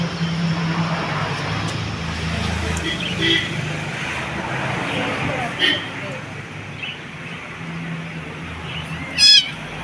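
A cat meows several times, close by, over a steady background of road traffic.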